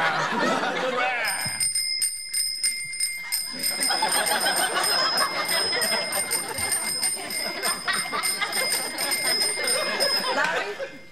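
A bell rings out a tune with sustained high tones over several seconds, with people talking over it in an indoor sitcom scene.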